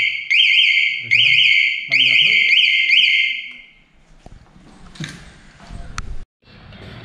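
A motorcycle anti-theft alarm sounds close and loud in three bursts of shrill warbling siren tones, then stops and gives way to clicks and handling noises.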